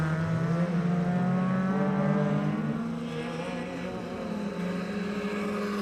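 A Suzuki Swift Sport rallycross car races through a British Rallycross Championship round, its engine loud and close with a sustained high revving drone whose pitch climbs and shifts as it blasts toward the tarmac.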